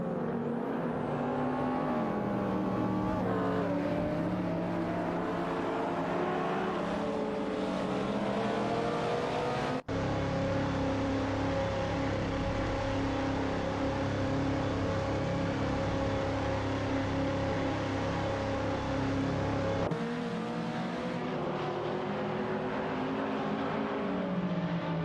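Race cars speed and overtake one another in a continuous, loud stream of high-pitched engine whine whose pitch rises and falls as the cars shift and pass, with no talking.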